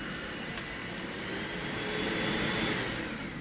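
A Deerma VC20 cordless handheld vacuum cleaner runs continuously, its motor giving a loud, close, steady whine and airy roar that swells slightly midway, with no voices.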